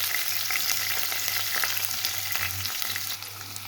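Sliced onion sizzles steadily in hot coconut oil with fenugreek and curry leaves in a pressure cooker, a continuous close frying hiss with faint stirring clicks and no talk.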